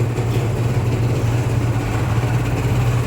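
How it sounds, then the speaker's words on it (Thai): A car engine idles with a low, steady hum that stays constant throughout, close by and fairly loud. "เครื่องยนต์ก็เงียบกิ๊บครับ"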